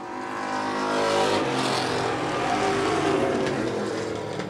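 Several race cars roar around a short oval track in a close pack, engines loud and steady with a rising surge as they charge down the back straightaway, no voices over the din.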